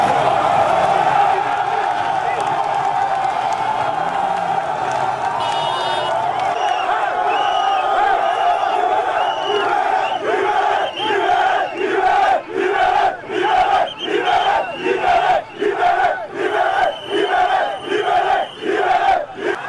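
A large crowd of protesters encircled by police in Cameroon roars and chants, a steady loud mass of voices that settles into rhythmic, pulsing collective shouts toward the end.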